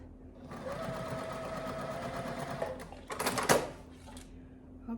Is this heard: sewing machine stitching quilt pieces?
yes